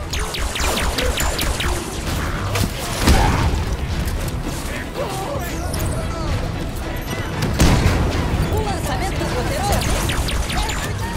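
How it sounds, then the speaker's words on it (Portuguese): Heavy gunfire and cannon blasts in a Halo 5: Guardians battle, with dense volleys, sharp booms and mechanical clatter layered across the whole stretch. Loud, busy combat sound with no voices over it. "Tem alguém aqui com um canhão."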